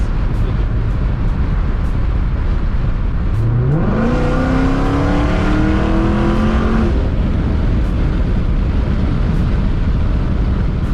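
A 2016 Dodge Challenger Hellcat with a supercharged 6.2 liter V8 accelerates hard from 60 to 80 mph, its engine rising sharply in pitch after a downshift and roaring loud for about three seconds under steady road and wind noise.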